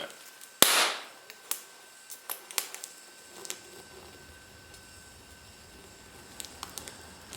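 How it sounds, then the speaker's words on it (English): TIG brazing bronze gives a sharp loud bang at the start, then scattered small pops and crackles over a low hiss from the torch. "Mainly because of that popping and banging where I'm doing it."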